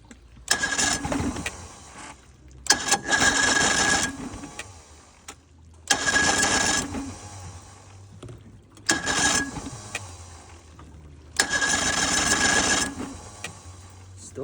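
A vintage boat engine, a barn find sitting unused for 20 years, cranks in five repeated bursts of whirring starter noise separated by short pauses, never catching and running.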